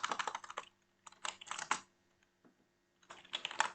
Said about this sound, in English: Now type this command